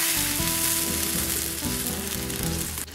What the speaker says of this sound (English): I'm going to add in my beef stock,